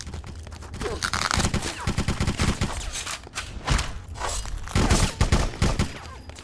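Video game gunfire from Bloodrayne, with rapid bursts of shots and fusillades that keep going, loud and close, along with a few thuds and scrapes.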